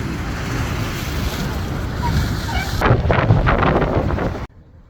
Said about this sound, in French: Il y a du vent ici aujourd'hui.